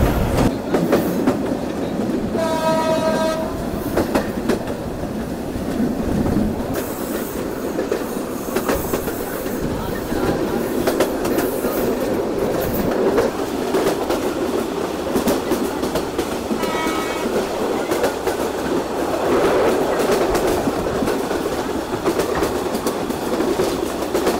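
The Korotoa Express runs along the rails with a loud, continuous rumble and a rhythmic clickety-clack. A few brief squeals or horn-like tones cut through, heard from on board with no talk.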